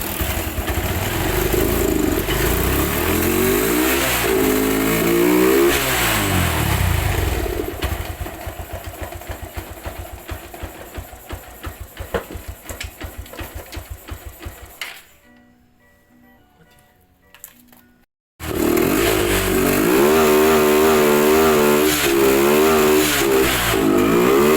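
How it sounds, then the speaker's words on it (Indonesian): A Yamaha Verza motorcycle engine with a smoky exhaust runs and revs loudly close by, settles into a chattering idle, falls nearly silent briefly, then roars back with strong revving. "Kita akan hidupkan ya, hidupkan motornya."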